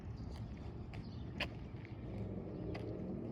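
A car engine and a car turning on a street behind a dog walker, heard as a steady low road rumble with a few faint clicks and taps on top and no talk.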